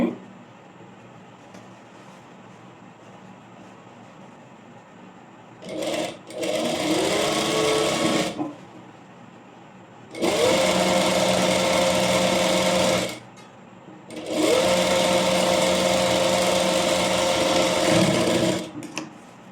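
Sewing machine stitching a plain frock seam with sleeves in three steady bursts of a few seconds each, loud and close, separated by brief pauses, with faint background hum between runs.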